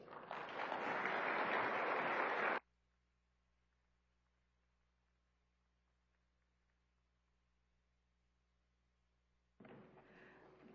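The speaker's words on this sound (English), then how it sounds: "Please join me in giving her another round of applause" A burst of audience applause at a hospitality and tourism summit, dense clapping for over two seconds that cuts off abruptly, followed by near silence and then another brief swell of clapping.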